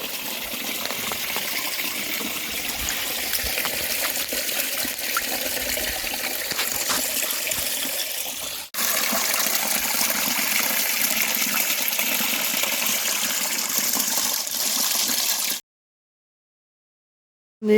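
A small river stream flows steadily along the Stevenson trail (GR70) in France, a continuous close rushing trickle with a brief dip midway before falling silent near the end.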